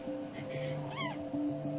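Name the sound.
kitten meowing at veterinary hospital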